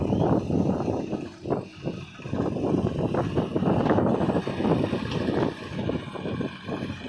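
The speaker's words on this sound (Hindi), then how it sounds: "जैसे हमारा ये ट्रैक्टर स्टार्ट हो गया है" Tractor engine at a house excavation site, a rough steady rumble with irregular bursts and knocks, close and loud for the whole stretch with wind-like noise over it.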